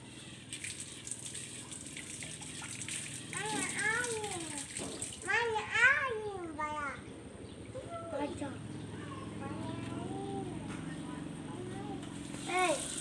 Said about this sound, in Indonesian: Mari saya akan mempraktekkan cara cuci tangan pakai sabun ya Ibu